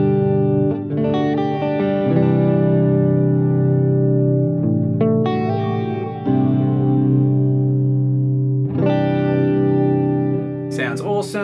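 Electric guitar through a Boss Tera Echo effect on a Boss GT-1000 Core multi-effects unit, a few strummed chords ringing out with long, smeared echo tails, loud and close. A faint high burst comes near the end.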